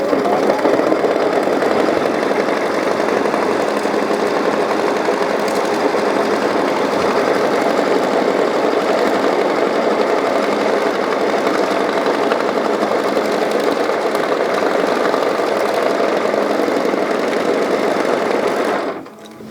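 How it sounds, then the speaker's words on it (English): A sewing machine stitching the first step of a cupcake stuffie runs continuously at an even, fast hum for nearly twenty seconds, close and loud, then stops abruptly. "let's get this into the machine, and we're going to stitch our first step"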